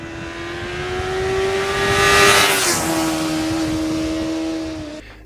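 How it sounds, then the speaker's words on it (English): A Yamaha FZ6 600cc motorcycle engine revs up to a high whine, holds, then eases off, close and loud, with no talking. "the bike sounds typical 600-ish. So for anyone desiring that, here's a sound clip of the machine."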